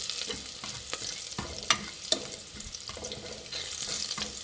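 Garlic frying in oil in a pan until light brown for bele rasam, a soft continuous sizzle with occasional stirring scrapes and two sharp metallic clinks in the middle.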